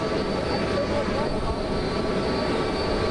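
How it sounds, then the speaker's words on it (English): A Clemson team plane that has just landed in New Orleans is heard as a steady, moderately loud jet engine hum and rush, fairly close, with people talking faintly nearby. "we can tell you that the plane has arrived right here"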